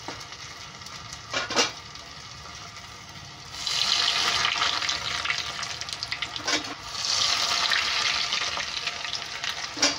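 Baby corn fingers coated in batter deep frying in hot oil, a steady broadband sizzle that swells louder midway with bubbling bursts, close by and without talk.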